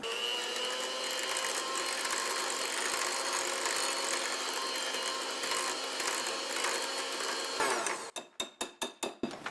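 Electric mixer giving casserole batter a final mix, a loud continuous whirring drone that cuts off near the end, followed by several sharp clacking taps.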